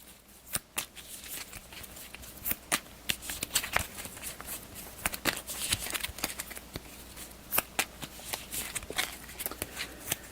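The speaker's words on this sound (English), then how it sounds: "let me give this a quick shuffle" Rapid, crisp riffling of playing cards, a flurry of sharp papery snaps and flutters close by, with no talking.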